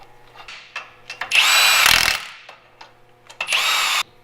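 A power drill tightens bolts on a Jeep in a shop, a few short trigger bursts then two sustained whirring runs, loud and near, no talking.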